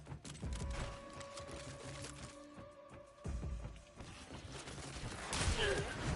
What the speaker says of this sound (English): It seems the shotgun shoots faster if you have the shotgun ammo on.